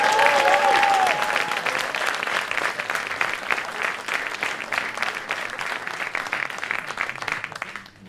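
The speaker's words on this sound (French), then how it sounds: "en début de spectacle, généralement les applaudissements sont un petit peu timides" Concert audience applauding at the start of a show, a sustained wash of many hands clapping that stays fairly even before fading out at the end, with a brief voice at the very beginning.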